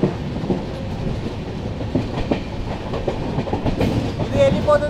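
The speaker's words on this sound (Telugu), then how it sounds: "ఆ ట్రైన్ వచ్చేసి ఈ ట్రాక్ గుండా వస్తుంది" A train rolls steadily along the track close by, with a continuous loud rumble and rhythmic clickety-clack of wheels over rail joints and a faint metallic squeal near the end.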